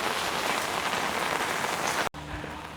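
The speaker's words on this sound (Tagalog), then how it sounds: "Umuulan pa rin siya." Steady rain falls and patters on surfaces in Omiš, Croatia, a dense continuous wash that cuts off abruptly near the end, then a quieter rainy patch follows with a faint low hum.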